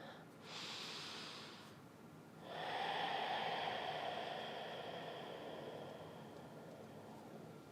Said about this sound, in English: Take one more deep, rich, full breath with me.